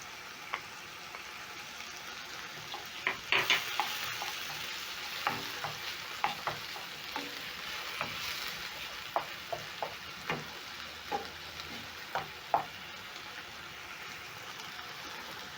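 Tomatoes and tomato paste get stirred into a simmering chickpea curry, with a faint sizzle underneath and a series of sharp spoon clacks and scrapes against the pan, close and wordless.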